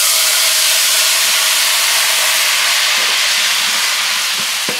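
Golden fried tadka poured into chicken haleem sets off a loud, continuous hissing sizzle that stays close and constant from start to finish, with faint stirring clinks near the end.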